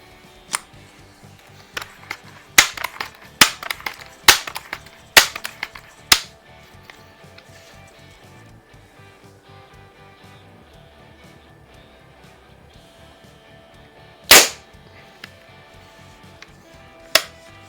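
Daisy 880 multi-pump .177 pellet rifle firing wadcutter pellets: a quick series of sharp, close cracks, then a pause, one more loud shot and a final fainter one, with no talk.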